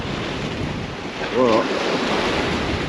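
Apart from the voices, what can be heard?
wind at the seaside while surfcasting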